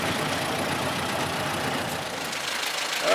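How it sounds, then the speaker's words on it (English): A Ford Model A engine, a barn find, idles steadily and close, a dense even rumble with a faint knocking texture throughout. "The engine sounds good."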